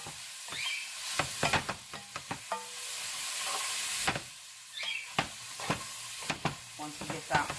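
Garlic sizzling in a pan for homemade tomato sauce, a hissing fry punctuated by frequent scraping stirs and utensil taps, close by with bursts of louder sizzle.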